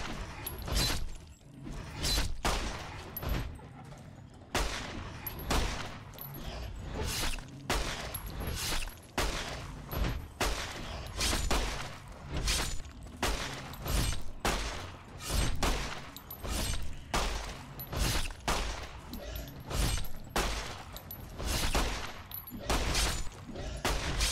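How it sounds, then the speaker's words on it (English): Rapid, repeated gunfire from a weapon in Fallout: New Vegas, dozens of sharp shots in a steady, insistent rhythm over about twenty-four seconds, loud and close with no talking. "let's see how many shots it's going to take"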